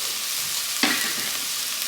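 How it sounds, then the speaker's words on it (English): Garlic is added to a hot soup pot for broccoli cheddar soup, with a short burst of sizzle as it hits, over a steady background hiss of frying. "I'm going to go ahead and add my garlic in here"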